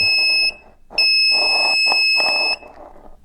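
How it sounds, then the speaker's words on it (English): A handheld security metal detector sweeps over the tang of a Seal Pup knife, giving loud, sustained electronic beeps in two long bursts separated by a short gap. "Let's go ahead and get the metal detector out, see if this tang runs all the way down."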